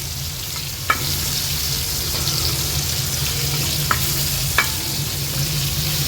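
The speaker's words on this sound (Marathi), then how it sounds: "गॅसची फ्लेम ह्या कोलंब्या फ्राय करताना मीडियमवरच ठेवायचे आहेत म्हणजे छान क्रिस्पी बनतात" Rava-coated prawns fry in a pan over a medium flame with a steady, close hiss of sizzling oil, punctuated by a few faint clicks and taps, with no talk.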